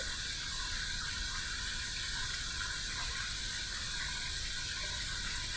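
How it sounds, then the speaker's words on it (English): Hot tap water runs steadily from a faucet over a container of Vikings Revolution Spiced Vanilla shaving cream, a continuous bright hiss without talk. "we're going to heat this up under some hot water"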